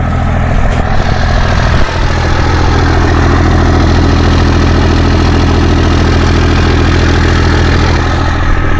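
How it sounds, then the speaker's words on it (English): A Cummins diesel truck engine with a straight-pipe exhaust and 8-inch tip idles loudly and steadily up close, a deep, rumbling exhaust drone with no pauses. "it's a Cummins diesel, but with that exhaust tip on there, it gives it such a deep"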